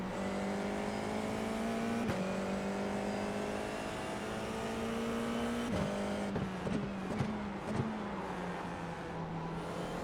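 FIA F4 race car in the iRacing sim at Rudskogen Motorsenter, a steady, buzzing engine drone that holds pitch and then drops slightly, broken by several sharp clicks of gear changes near the end.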